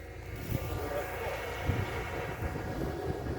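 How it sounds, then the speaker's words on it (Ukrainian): A powerful tractor pulling a winter rapeseed seeding unit across sandy field soil, giving a steady, loud low engine drone throughout with faint voices underneath. "Ось такий посівний агрегат, такий потужний е, трактор."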